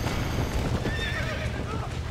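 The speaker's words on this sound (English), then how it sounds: "I want to ride the horse." A horse in the Red Dead Redemption video game neighs and whinnies over steady clip-clopping hooves, with a dense game soundscape running underneath throughout.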